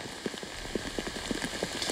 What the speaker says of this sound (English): we can see the rain coming down pretty hard right now